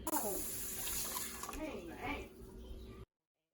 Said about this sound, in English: So that was 3 cups of water that I'm adding in there right now.